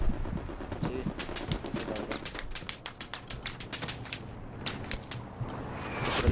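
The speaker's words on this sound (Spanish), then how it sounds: "Hay una ametralladora." Rapid, rattling bursts of machine gun fire in the video game Hell Let Loose, repeating steadily throughout, dense and close, with a few brief pauses between volleys.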